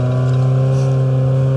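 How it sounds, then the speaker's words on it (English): A car engine revs at close range, a loud steady droning rumble with a slight rise in pitch, heard alone without talk. "Revving up the engine."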